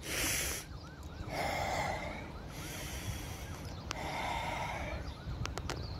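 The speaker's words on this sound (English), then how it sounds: "Inhale, exhale." Slow, deep breaths drawn in and let out during a breathing-technique demonstration, several long airy inhales and exhales close to the microphone, alone with no talking.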